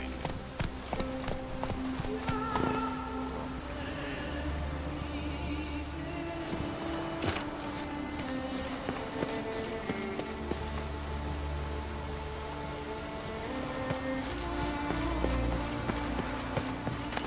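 Roach the horse gallops across open ground in The Witcher 3, hoofbeats clip-clopping steadily and continuously for the whole stretch, blended with game music and ambient noise, no talking.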